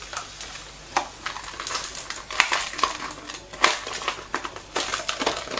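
Frozen garlic and parsley mix dropped onto clams (tellinas) in a hot pan, a busy crackling sizzle with sharp clicks and taps of shells and utensil, close and steady.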